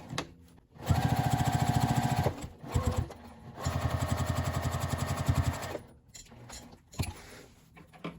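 A sewing machine bastes along the bottom edge of a fabric pocket in two rapid, buzzing bursts of stitching with a short pause between, close up, then a few quiet handling clicks.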